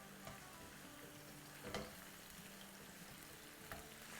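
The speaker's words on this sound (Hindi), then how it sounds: "चले इसको हम थोड़ा सा हिलाते हैं।" Butter chicken masala frying in oil is stirred, giving a faint, steady sizzle with a few soft scraping stirs.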